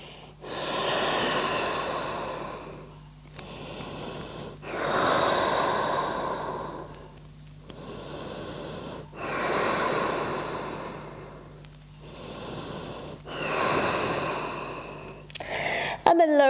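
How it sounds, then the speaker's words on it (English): Slow, deep breathing during a relaxing yoga session, with about six long, airy inhale-exhale cycles close to the microphone, evenly paced with brief pauses between. "Breathing deeply here."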